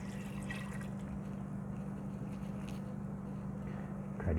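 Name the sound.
pouring 2 cups of water into Instant Pot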